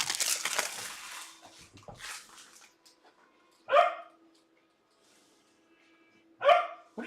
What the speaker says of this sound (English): What are you barking about, bro?